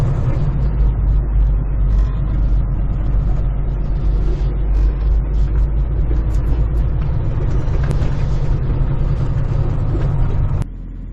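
A truck pulls away and drives off, its engine a steady low rumble up close with road noise throughout, cutting down near the end.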